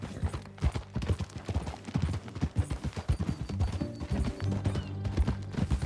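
Quick, steady clip-clop of a horse's hooves at a gallop in a Red Dead Redemption 2 ride, with dense overlapping impacts and a layer of game ambience throughout.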